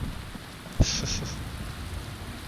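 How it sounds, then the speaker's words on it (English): Rain hisses steadily in a video game, a close, even wash of falling water, broken early by a sharp low thud and a brief high chiming tone that fades out. "No, we don't want the rain."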